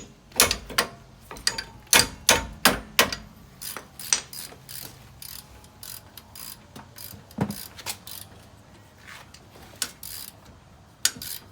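Sharp metallic hammer blows striking a ratchet during a rear brake replacement on a 2003 Chevy Suburban, a rapid cluster of close, loud clanks followed by scattered knocks and ratcheting clicks with brief pauses.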